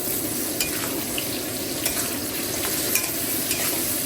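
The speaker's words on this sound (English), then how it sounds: "Stir it straight into the ribs." Pork ribs stir-fried with red chili paste in a wok for Sichuan peppercorn mala ribs, a loud constant sizzle with scattered metallic clicks of stirring, up close and with no one speaking.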